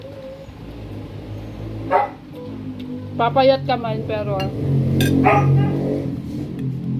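A dog barks a few times in short bursts nearby while a person talks, with some clinking of dishes in the background.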